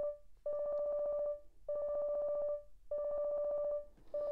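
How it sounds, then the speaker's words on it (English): A D.D.D. phone ringing in the Obey Me video game, three long electronic ring bursts separated by short pauses, each a steady buzzing tone, clear and close with no talking. "Your DDD is ringing."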